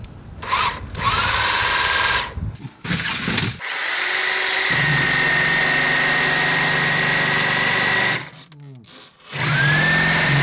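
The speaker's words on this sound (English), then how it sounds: "The electric hedge trimmer's rubbish." A 550-watt electric hedge trimmer runs in loud sustained motor whines, starting and stopping several times with brief quiet gaps and rising pitch as it spins up.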